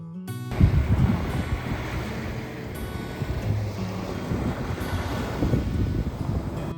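Strong wind and ocean surf at Nakayama beach on Tanegashima, a constant rushing roar with buffeting gusts hitting the microphone and waves surging underneath, loud and close with no voices.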